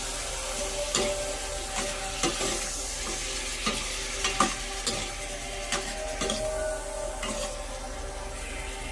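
Chicken adobo with liver sizzles and simmers in a pan while a utensil stirs and scrapes in irregular clacks, close and moderately loud, no talking.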